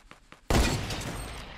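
A loud gunshot burst in the Fortnite battle royale game lands after a few faint soft ticks, then its broad crackling echo and noise trail off slowly.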